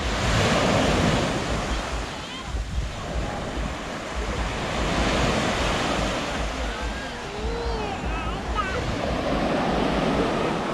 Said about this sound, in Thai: เนี่ยคลื่นแรงมากพอสมควรเนี่ยนะ